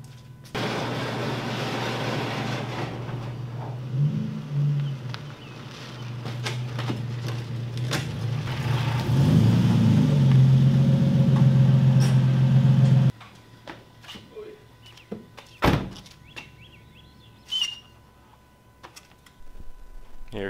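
A Nissan 370Z engine idles steadily and loudly for about thirteen seconds as the car is pulled in, then cuts off, leaving quieter scattered clicks and knocks.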